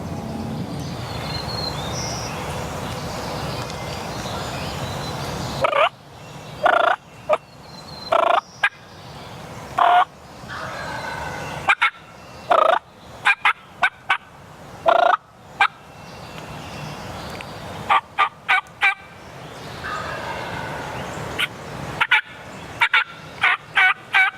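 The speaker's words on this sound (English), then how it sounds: "These turkeys are gobbling like crazy" Wild turkeys gobble repeatedly in loud, rattling bursts in hardwood forest during spring turkey season, some close and some farther off, over a faint background of birds and insects.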